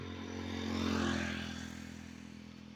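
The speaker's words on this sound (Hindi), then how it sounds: "ये देखिए बाइक वाला आ चुका है।" A motorcycle passes along a highway at night, its engine drone swelling as it approaches, peaking, then fading away steadily over a constant road hum.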